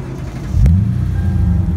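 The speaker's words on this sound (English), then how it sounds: "Start up the car." A Lexus IS F with stock headers and catalytic converter fires up with a low rumbling burst, then settles into a steady, loud idle that fills the short stretch.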